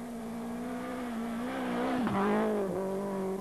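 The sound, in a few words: old Renault Clio rally car racing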